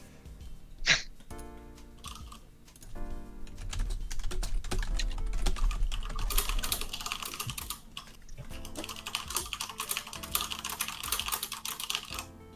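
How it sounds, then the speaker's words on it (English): Rapid, furious clatter of keys on a computer keyboard, dense irregular clicking that builds and continues for several seconds, close and fairly quiet, with no talking. "Furious typing."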